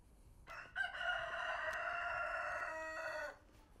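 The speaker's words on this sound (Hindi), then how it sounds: "ओके, तो ये मुर्गा जो है वो हमें बुला रहा है अपनी तरफ।" A rooster crows once, a single long drawn-out cock-a-doodle-doo lasting close to three seconds, fairly near and clear against a quiet outdoor background at Koke Tobe in Almaty, Kazakhstan.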